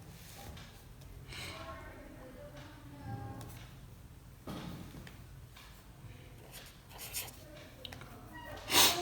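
A pen writes a formula on paper with scratchy strokes and taps, close and fairly faint, mixed with some handling knocks and a sharp clatter at the end.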